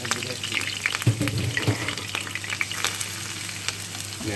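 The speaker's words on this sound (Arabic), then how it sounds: "حطينا طاسه وحطينا فيها شويه زيت سمنه، سواء الزيت بيبقى حلو، وبصل قطعته شرايح او مكعبات" Sliced onions fry in oil and ghee in a pan, giving a steady close sizzle with a few soft stirring knocks, and no voices over it.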